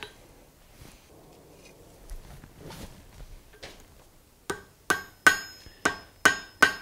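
Hammer blows on hot steel as a blacksmith forges and bends a poker: six sharp, ringing strikes in a steady rhythm close by, following quieter shuffling and handling noise.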